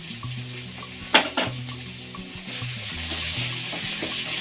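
Ginger garlic paste frying in a pan with softened tomato, giving a moderate crackling sizzle with one sharp clink of a utensil near the start and light stirring scrapes, without voices.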